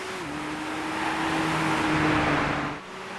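A 2012 Nissan GT-R accelerating out of a curve on a test track, heard as a continuous engine drone rising steadily in pitch, moderately loud and alone before easing off near the end.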